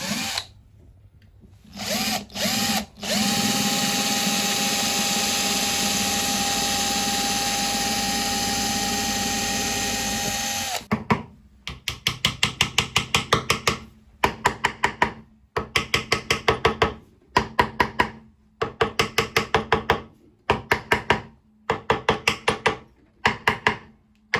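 A power drill whines steadily for several seconds, then bores small holes with a thin bit in a series of short, repeated bursts with brief pauses between them, loud and close, while a carved mulberry bağlama is repaired.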